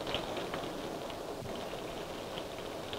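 Steady rain pours down outdoors, a dense, even patter of drops hitting the ground, with no voices and no thunder.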